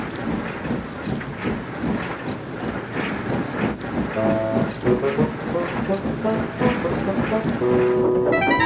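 A freight train pulling trucks rumbles along with rhythmic clattering of wheels over rails and a loud, continuous roar, wagons rattling close by.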